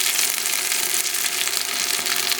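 Hot oil tempering with cumin and onion is poured over kadhi, giving a loud, steady, close crackling sizzle with no talk.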